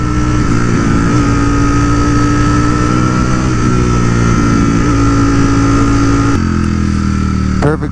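Ducati Streetfighter V4S motorcycle engine pulling hard up close on a canyon road, droning steadily with a quick-shifter upshift near the end that drops the pitch abruptly.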